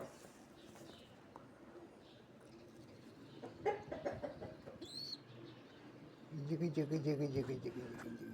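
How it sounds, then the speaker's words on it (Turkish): Close-up cooing and throaty calls from a pigeon begging for food, coming in short bursts, with a person talking softly in between and a burst of louder calls near the end. "Güvercin bak yemek istiyor."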